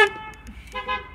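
A Tesla Model 3 horn gives a short, sharp toot right at the start, followed by quieter tonal sounds in the background.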